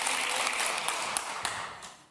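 A studio audience on a Turkish television talk show claps in a broad, steady wash of applause that gradually fades toward the end.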